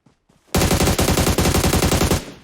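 Automatic gunfire from a gun in the mobile battle royale game PUBG Mobile rips out in one long, loud, rapid burst, preceded by a couple of faint single shots.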